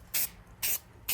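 Short bursts of aerosol filter oil sprayed onto a Honda ATV air filter on its inner shell, three quick, close hissing spurts at an even pace with brief quiet gaps between them.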